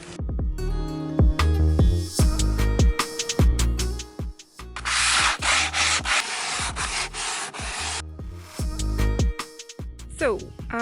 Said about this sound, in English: So I am trying to sand the pallets